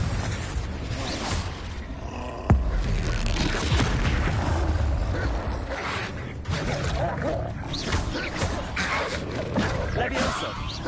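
A Confringo fire spell in Hogwarts Legacy bursts with a sharp boom amid dense, roaring battle noise that rumbles on loudly throughout, with a voice calling out over the combat.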